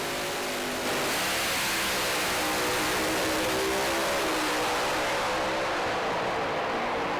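Pro Alcohol funny car engines at a drag race launch roar loud and continuous, revving hard with a dense, sustained blast that fills everything from start to finish.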